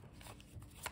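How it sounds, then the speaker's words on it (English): A deck of tarot cards is shuffled nearby, giving a quick papery riffle with soft flicks and a sharper snap near the end, quiet and without speech. "We're just going to shuffle a bunch of times here."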